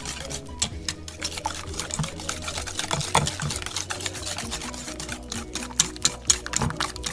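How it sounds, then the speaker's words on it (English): A whisk clatters rapidly against a bowl, mixing custard pie batter with buttermilk and vanilla in a dense, continuous rattling rhythm close by, with faint liquid sloshing underneath. "whisk it all together"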